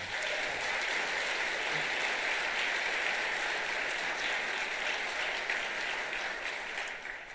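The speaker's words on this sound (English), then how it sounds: "let's give them a round of applause as well" Sustained applause from an audience at a State of the City address in Hoover, steady and even throughout, fading slightly at the end.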